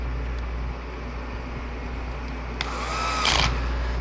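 A power tool briefly whirs near the end while driving screws into a Gaggia Accademia espresso machine during a repair, rising out of a steady low background hum.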